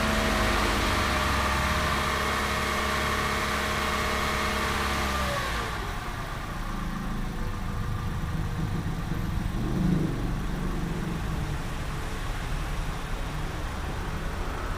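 A car engine holds steady at about 2000 rpm during a vibration test, a continuous mid-pitched drone with a hissy broadband layer; the tonal hum drops away partway through, leaving a steady rumbling noise.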